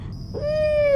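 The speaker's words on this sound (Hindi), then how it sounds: "कहीं दूर से उल्लू की आवाज़ आ रही थी।" An owl calls far off in the night over a dark graveyard, a single drawn-out tonal wail that rises in midway and holds steady to the end, with no voices.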